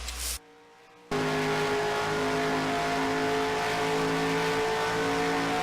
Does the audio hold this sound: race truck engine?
yes